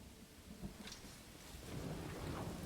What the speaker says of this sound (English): it looks like there's a nasty storm coming in.